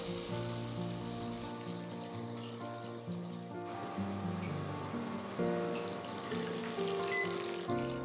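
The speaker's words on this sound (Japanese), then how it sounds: "温めたフライパンにバターを入れて溶かします" Butter melts in a preheated frying pan for omurice, giving a soft, steady sizzle and light crackle, faint and close with no talking.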